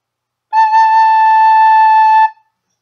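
One steady, pure recorder note, A, held for nearly two seconds, clear and breathy-soft, played alone.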